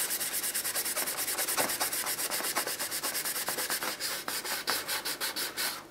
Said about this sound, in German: Jetzt, nachdem wir das abgeschliffen haben, macht ihr nochmal am besten ein sauberes.